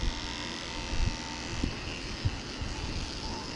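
Electric dog clippers fitted with a 7 blade shaving the base of a Bichon-Poodle mix's tail, a continuous close buzzing drone with slight fluctuations as the blade moves through the coat, and no speech.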